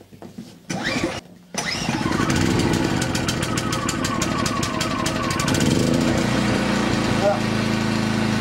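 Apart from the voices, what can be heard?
MXR3500 compact generator starting and running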